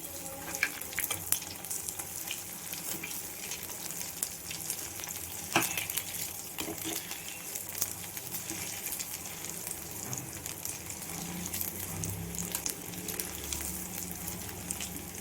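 Rice bonda sizzles steadily as it fries in hot oil, with light scraping as the pieces are stirred and turned. The frying runs throughout, with a few sharper clinks, and no one speaks.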